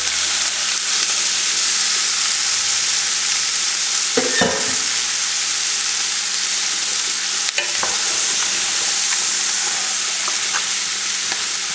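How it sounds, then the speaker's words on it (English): Onions cook down in a hot pan with a loud, constant sizzling hiss, broken by a couple of brief scraping stirs partway through. "so now we're going to cook these onions down"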